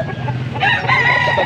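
A seven-month-old white Kelso gamefowl stag crows once in a loud, drawn-out call that rises and holds for about a second, set against steady low background noise.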